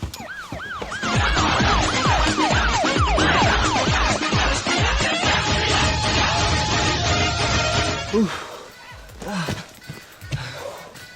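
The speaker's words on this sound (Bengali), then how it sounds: "অ্যাম্বুলেন্স" An ambulance siren sound effect in a comedy skit wails loudly in repeated rising and falling sweeps over busy background noise for about eight seconds, then cuts off into quieter clatter.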